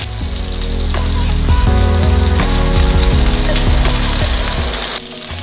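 Steak sizzles loudly in a hot, smoky pan, a dense crackling hiss that holds steady throughout with spitting pops and a faint clatter of movement underneath.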